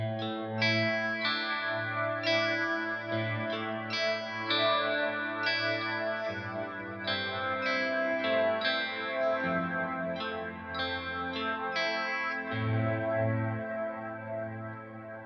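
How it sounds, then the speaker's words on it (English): Electric guitar played through a Walrus Audio Ambient pedal in LUSH mode rings out as sustained, pad-like chords, each swelling and blending into a long shimmering reverb tail, with no voices over it. "onto the LUSH mode now, which is a more sustained ambient reverb and gives you a more paddy kind of feeling"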